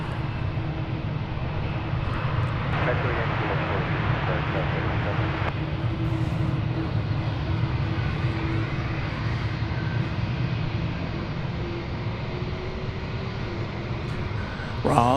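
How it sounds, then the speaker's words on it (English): Boeing 787 Dreamliner airliner at DFW Airport, its broad jet engine roar sustained and steady throughout, fairly loud and continuous, with faint voices under the engine noise. "There's that Dreamliner again."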